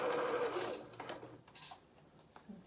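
A sewing machine stitches a fabric hat in a burst of rapid whirring that fades after about a second, followed by quieter handling noises.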